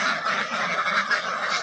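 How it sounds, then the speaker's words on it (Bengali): A flock of farm ducks raised for eggs, about ten months old, quacking and honking together in a steady, dense chorus close by with no talk. "আমার এই হাঁসগুলোর বয়স আজ 10 মাস।"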